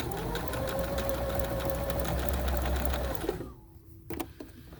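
A drop-in bobbin sewing machine runs steadily through a zigzag stitch for about three seconds with a rapid mechanical whir, then stops, leaving a few faint clicks and handling noises.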